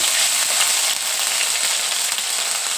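Ginger garlic paste frying in a pan for a broccoli dish, giving a steady, close, continuous sizzle with crackling spatters throughout and no talking.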